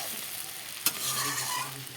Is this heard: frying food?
yes